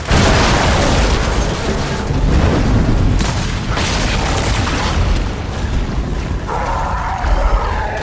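Gunfire and explosions in Xbox Series X video game gameplay, a dense continuous roar of booms and blasts, loud and sustained throughout.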